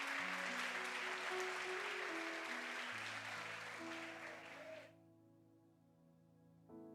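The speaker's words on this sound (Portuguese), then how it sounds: "Você pode aplaudir a Ele, meu irmão, se você crê nisso?" Church congregation applauding during a Portuguese-language service, a dense wash of clapping over sustained organ or keyboard tones that drops away near the end, leaving the music alone.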